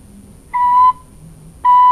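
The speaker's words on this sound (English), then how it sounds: "the penny whistle does this thing" A penny whistle plays two clear, steady, pure notes, each held for about a third of a second and separated by a short gap, sounding close and loud with no talking.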